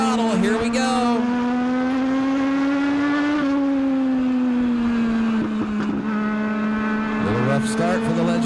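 A Legends race car under full throttle gives a loud, sustained buzzing engine drone with steady rising and falling pitch through gear changes, close and continuous, with a voice faintly over it.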